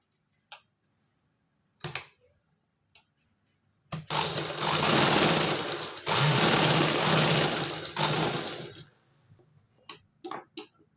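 A sewing machine stitches a tassel for a woman's blouse in one continuous burst of about five seconds, a fast mechanical rattle, bracketed by scattered clicks and taps of fabric handling before and after.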